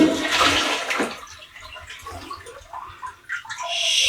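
A toilet in a cabin bathroom aboard the Queen Mary flushes with a loud rushing gush of water that tapers into softer trickling and refilling, heard close up with no talking.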